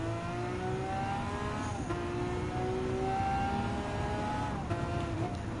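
Race car engine in Gran Turismo 7, a Lamborghini Aventador LP750 in a racing event, a steady high engine whine that drops in pitch at each gear change, twice, over a constant loud drone.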